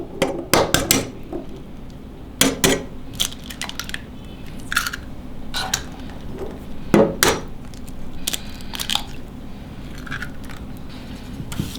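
Eggs stirred into a cooled mixture in a bowl, with irregular knocks and scraping clatters of a utensil against the bowl, close and fairly loud, in uneven bursts.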